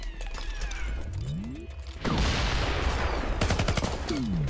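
Shotgun blasts and gunfire in the video game F.E.A.R., a quieter stretch followed by a sudden loud burst of rapid, sharp shots crowding together.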